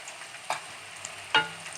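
Thin banana slices fry in oil over medium heat, a soft continuous sizzle with two brief louder crackles or stirs, quiet and close, no talking.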